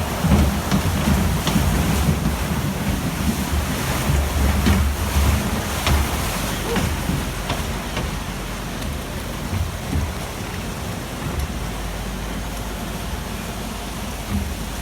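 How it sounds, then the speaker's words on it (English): On a simple log flume ride at Sea Breeze Amusement Park in Rochester, New York, rushing water and a bursting pipe make a loud, broad splashing roar. The roar is heaviest at first, then eases into a steadier wash. "Very simple log flume, but not without its cool elements, including this bursting pipe."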